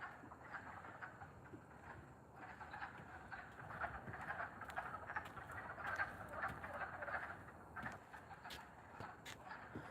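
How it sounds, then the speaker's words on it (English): A dense chorus of frogs croaks continuously at a small frog and turtle pond, many overlapping rattling calls at a moderate distance, steady and unbroken throughout. "It's a very odd sound of frogs."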